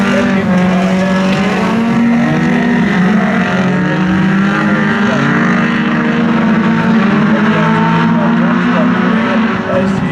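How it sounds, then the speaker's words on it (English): Race cars circling a speedway track in Dubbo, the loud, layered roar of several engines rising and falling together over a sustained stretch, with a commentator's voice running over the noise. "look at this orange car go up the front straight"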